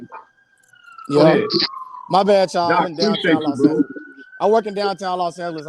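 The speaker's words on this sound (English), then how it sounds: "I apologize for the sirens." A police siren in downtown Los Angeles wails as a steady tone through the whole stretch, carrying under someone talking.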